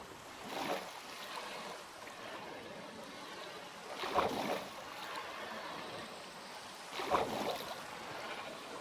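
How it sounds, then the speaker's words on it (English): Rushing, trickling water from a waterfall in the video game Minecraft runs continuously at moderate level, broken by three louder splashy swells spaced a few seconds apart, with no speech. "Oh well, waterfall"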